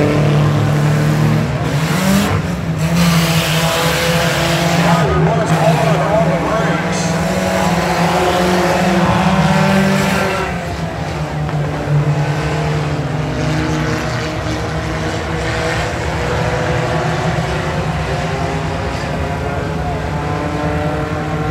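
A race car runs at Friendship Motor Speedway during a Young Guns event, its steady engine drone sustained throughout and easing slightly partway through, with a commentator talking over it.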